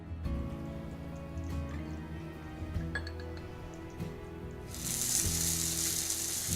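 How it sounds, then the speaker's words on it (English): Onions sizzling in about a tablespoon of olive oil in a hot sauté pan, a quiet steady crackle with faint clinks, the hiss swelling louder in the final seconds. "You want to hear those onions sizzle."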